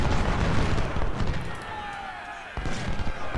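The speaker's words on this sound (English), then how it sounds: "Our howitzers are picking their targets, this is good." Howitzer batteries fire in the Civil War strategy game Ultimate General, a continuous rumble of booming cannon and battle noise with overlapping blasts, a voice talking over the din.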